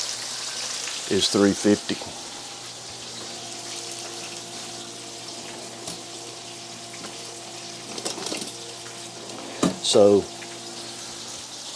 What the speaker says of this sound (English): let's let these fry in the pan, and we'll turn them